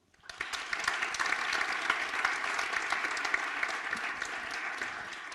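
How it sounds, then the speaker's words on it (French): Steady applause from an audience at the end of a startup pitch at a conference, starting abruptly and holding at a full, even level throughout, with dense overlapping claps and no talking. "Bravo Théo et Jean-Christophe de Connexio, sous vos applaudissements pour finir ce très beau temps de pitch."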